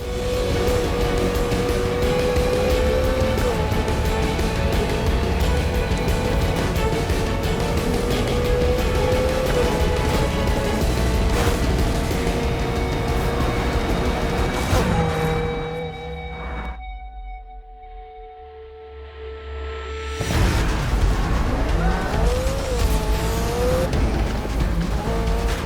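Race car engines roar and cars pass by in the Need for Speed Heat video game, with a McLaren P1 GTR revving and shifting alongside a pack of rivals. The sound is loud and continuous, with a brief quiet lull near the end before the engines surge again.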